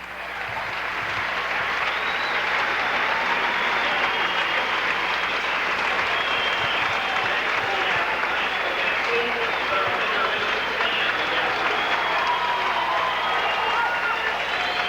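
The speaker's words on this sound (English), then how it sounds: "He's getting a standing ovation from this crowd." Sustained, loud applause from a high school basketball crowd at a 1979 Parents Night game, building in the first second and holding as a dense wall of clapping, with murmured voices mixed in.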